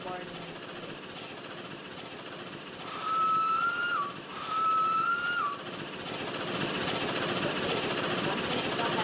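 Steam locomotive whistle in the Roblox train game Steam Era, sounding two long, steady blasts a moment apart over a low, continuous engine rumble.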